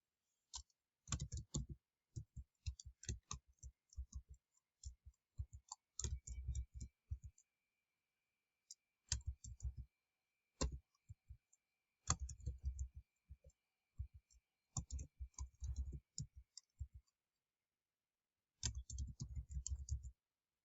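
Names being typed on a computer keyboard: bursts of quick, crisp key clicks separated by short pauses, close and fairly loud, with no talking.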